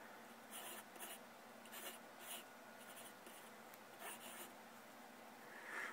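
A 2H graphite pencil scratches across Bristol board in short, quiet strokes, a soft rhythmic drawing sound with brief pauses between lines.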